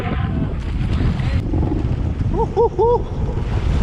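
Strong wind roars and buffets across the microphone at sea off Indonesia during a fishing trip, a constant low rumble with water noise and a few brief tonal squeaks near the end.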